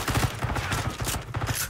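Fast, continuous shooting in Call of Duty Warzone, a dense rattle of closely spaced shots over steady background noise.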